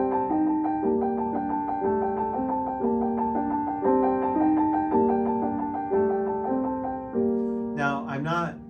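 A slow piano trill starting from the upper note alternates two pitches evenly in measured triplets, rising to a quick flourish near the end.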